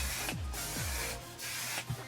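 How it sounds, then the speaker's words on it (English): A One Size Until Dawn mattifying waterproof setting spray hisses in several close bursts, each a short breathy spray separated by brief pauses. "This is the One Size Until Dawn Mattifying Waterproof Setting Spray."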